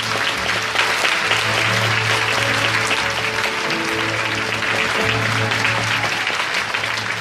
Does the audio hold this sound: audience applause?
yes